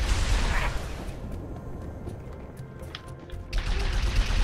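Turret gunfire in Halo 3 erupts in dense bursts at the start and again near the end, with a quieter stretch of scattered shots between, loud and close.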